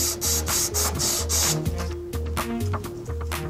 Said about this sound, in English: A little bit of sandpaper. Clean your pipe thoroughly.